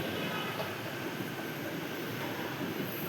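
A metro train runs through an underground station beneath the Ganges river, making a steady, loud rumble and rush of wheels and air with no talk.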